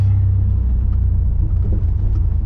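A Nissan Navara with a turbocharged VG30 engine pulls hard in second gear, a loud, deep, steady rumble rising under acceleration, heard close up without voices.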